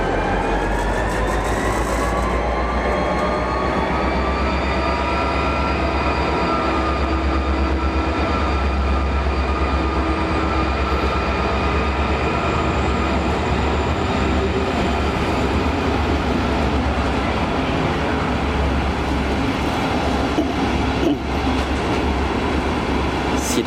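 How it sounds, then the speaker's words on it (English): A DSB double-decker train pulled by a diesel locomotive departs Østerport Station, heard as a steady, loud, low engine drone with rising whine and rolling rumble sustained throughout, with faint talk beneath. "So the train is about to depart now."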